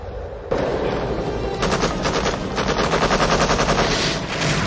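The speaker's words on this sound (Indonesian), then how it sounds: "Kemudian kru heli melepaskan tembakan belasan ke arah sniper musuh." Helicopter crew gunfire aimed at a sniper in a war film: a long, loud rapid-fire burst starts abruptly after a brief lull and rattles on continuously.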